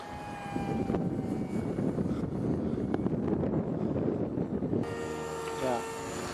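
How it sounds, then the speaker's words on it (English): Steady outdoor wind buffets the microphone with a loud, low rumble throughout, sounding close and continuous during drone concept testing, with a faint mechanical whine near the end. "Wind picked up."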